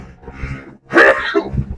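A single sharp sneeze-like burst, fairly close and loud, set between softer rustling and low murmuring sounds.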